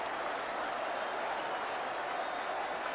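A football crowd at a 1978 match between Wednesday and another side applauds after a goal, a steady, broad wash of clapping that holds at an even level for the whole stretch.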